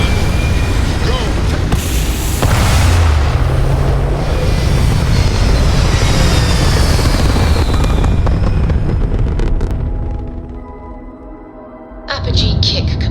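A spaceship takes off in the Starfield video game, a loud continuous roaring rumble with booming thrust that swells, then fades and drops away before a new burst of sound near the end; a voice speaks beneath it.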